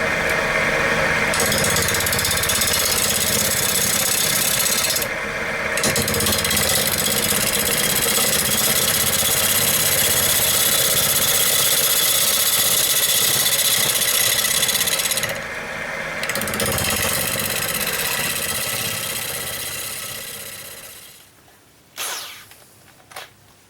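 A wood lathe spins at 1400 RPM with a steady mechanical whir and rumble, broken twice by brief scraping bursts, then winding down near the end with a few knocks.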